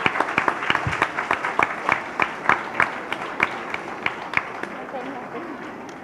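Audience at a school business meet clapping to welcome the chief guest, a sparse run of distinct individual claps from a smallish group, fairly close, gradually thinning out toward the end, with some speech underneath.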